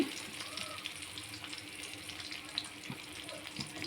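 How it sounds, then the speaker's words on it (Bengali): Onion, chilli and ginger paste sizzling in hot oil in a pan, with a steady close frying hiss and a few soft clinks and stirring bumps, and no talk. "এখন এই পেঁয়াজ বাটা, লঙ্কা বাটা, আদা বাটা সব দিয়ে দিলাম তেলের ওপরে"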